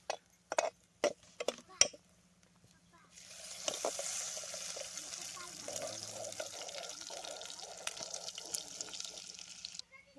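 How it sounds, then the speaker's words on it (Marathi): Cooking oil poured into a pan outdoors in a rural field, a steady liquid stream running for several seconds after a few sharp knocks, close and moderately loud. "आता आपण तेल ओतून घेऊ"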